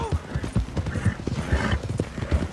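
Horse hooves clip-clopping in a video game, a fast, steady galloping rhythm of close, loud hoofbeats with a brief whinny-like call, no talking.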